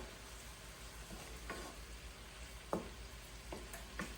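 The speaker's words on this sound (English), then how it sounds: "So we're gonna stir." Chicken and shrimp pasta is stirred in a sizzling pan, a soft continuous fry under a few distinct scrapes and clinks of the utensil against the pan, close and quiet with no speech.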